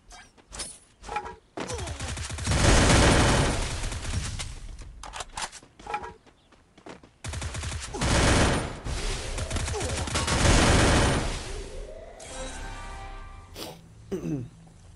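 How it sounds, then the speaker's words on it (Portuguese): Gunfire in a mobile shooter video game, loud bursts of rapid shots in clusters with short gaps between them, close and harsh, with a few faint sharper cracks near the end. "Tomando tiro de todo lugar"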